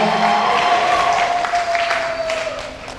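A church congregation applauds and cheers, steady dense clapping with a sustained tone beneath it, fading gradually toward the end.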